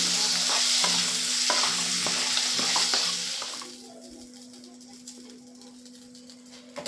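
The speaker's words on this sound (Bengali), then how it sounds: "আলুগুলোকে আমি হালকা করে ভেজে নিচ্ছি বেশি ভাজার প্রয়োজন নেই" Potatoes with turmeric frying lightly in oil, sizzling steadily with scraping stirs for a few seconds, then the frying drops to a quieter low crackle.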